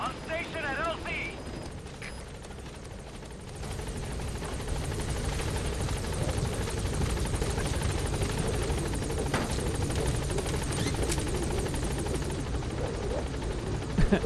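Helicopter in the game Metal Gear Solid V hovering at a landing zone, a steady loud rotor drone rising after a few seconds and holding, with faint voices at the start.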